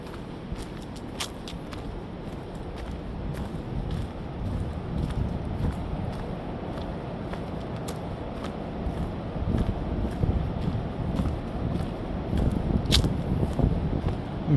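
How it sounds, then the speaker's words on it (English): Gusting wind on a mountain trail in the Smokies blends with the steady rush of a creek below, a continuous rumbling wash broken by occasional brief clicks and rustles, louder toward the end. "I'm hearing the creek, but I'm hearing the wind too. It's a mixture of both right now, wind and the creek."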